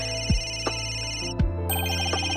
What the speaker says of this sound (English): Where's that ringing come from?